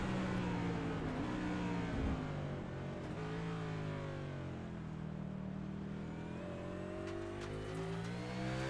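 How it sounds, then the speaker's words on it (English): A race car engine roars onboard during a lap at Laguna Seca, loud and close, rising and falling through gear changes and steady revving with no talk. "Let the sound of the car take you around."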